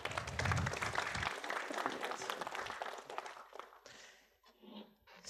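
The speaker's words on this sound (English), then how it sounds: "A big applause." Audience applause greeting a presenter before a Git talk, loud, dense clapping for about three seconds that quickly fades away into quiet, with a few scattered claps and room noise left at the end.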